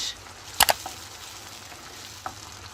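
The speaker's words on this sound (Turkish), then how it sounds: "Domatesimiz pişerken içerisine sarımsak rendemizi ilave ediyoruz." Tomatoes and grated garlic cook in a pan, a soft steady sizzle with a couple of sharp clinks of a utensil near the start and another faint tap later.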